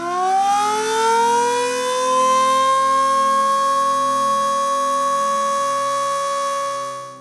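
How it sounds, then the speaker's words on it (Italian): A shoe factory's siren wails over a small Italian hill town, rising quickly to a steady, loud, sustained tone for several seconds before fading slightly at the end, with no voices. "La sirena della rinascita, il calzaturificio che prosegue la sua attività ininterrottamente da 50 anni."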